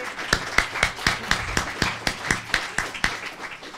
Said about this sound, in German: Einen ganz großen Applaus für die...